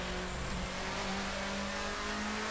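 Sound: 1990s DTM race car engine in video game Assetto Corsa

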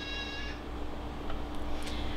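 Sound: cat meowing

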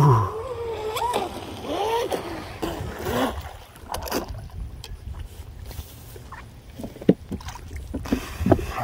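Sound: RC boat with brushless motor running at full throttle on water

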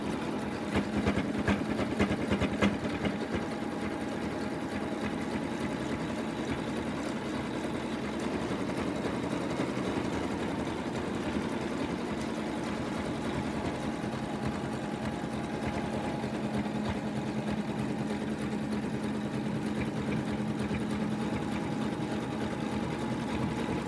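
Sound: embroidery machine stitching the last color of a lamb design

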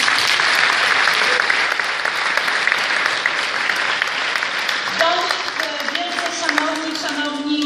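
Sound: applause for the coordinators

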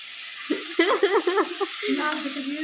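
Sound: gently stirring soft paneer in a kadai

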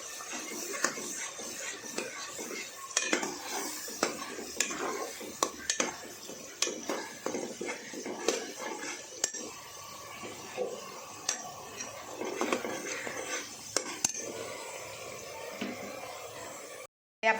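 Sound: stirring and roasting in a pan on medium gas

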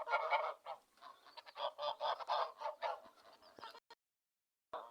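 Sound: geese honking loudly

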